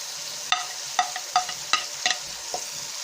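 Mixed vegetables with capsicum are stirred and fried in a pan: a spoon scrapes and clacks about seven times at a steady rhythm over a continuous close sizzle, with no voices.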